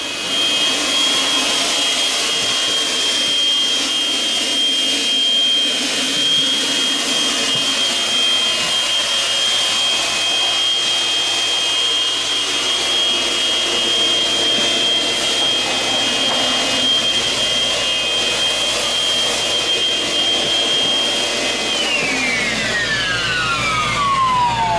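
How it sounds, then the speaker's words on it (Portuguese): Household vacuum cleaner running steadily through an indoor cleaning session, a loud continuous whine with a high tone that drops in pitch near the end as the motor winds down. "Ó, escuta o aspirador."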